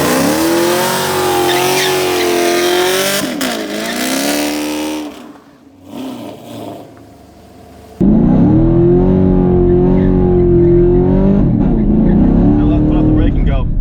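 A car engine revs hard through a burnout, strong harmonics rising and falling loudly, with a brief drop in the middle before full throttle returns. A voice talks over the engine.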